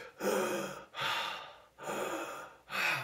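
Voice imitating heavy, labored breathing: four loud, rasping breaths in close succession, each a long noisy gasp with short pauses between, as if winded from climbing stairs.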